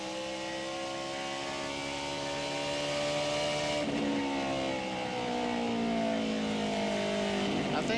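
NASCAR Craftsman Truck Series trucks race at the 2000 thatlook.com 200, a loud sustained engine roar with pitch sweeping as several trucks run side by side and pass, with a commentator speaking over it.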